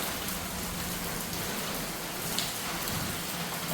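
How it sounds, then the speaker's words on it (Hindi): Steady, dense rainfall pours down continuously, a broad hissing roar with gusty wind mixed in and no voices. "हवा भी चल रही है, बारिश भी आ रही है"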